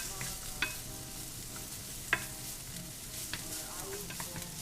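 Peppers and onion sautéing in a pan make a low, steady frying hiss with a few soft clicks of stirring, faint and unbroken, with no voices.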